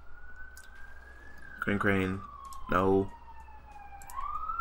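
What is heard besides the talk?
ambulance and emergency vehicle sirens outside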